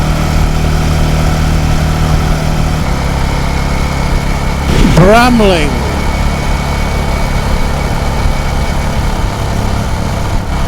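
Royal Enfield motorcycle engines rumble steadily and loudly on a group rideout through the countryside, a constant close drone with wind noise and a brief rising whine in the middle, while a rider speaks briefly.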